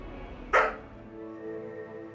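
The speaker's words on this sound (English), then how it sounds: "My dog's barking." A dog barks once at mid-distance inside a home, a single short sharp bark over a steady low background hum.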